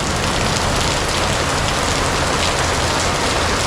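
Heavy, continuous rain pours down in Bali, a dense, steady hiss with no letup and no voices.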